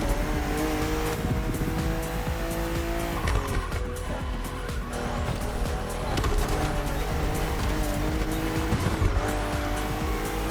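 BMW M4 CSL, decorated with the BMW M 50th anniversary emblem, racing flat out in The Crew Motorfest: loud, continuous engine roar with tire squeal and skidding throughout, steady and close.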